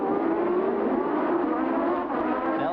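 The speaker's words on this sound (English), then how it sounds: "Nelson Piquet about to lap Thierry Boutsen in the Arrows car. One of the BMW engine cars out here" 1986 Formula One cars with BMW turbo engines racing at the US Grand Prix, one Arrows car being lapped: a steady, loud high-pitched engine whine held throughout, with pitch shifting slightly as the cars pass.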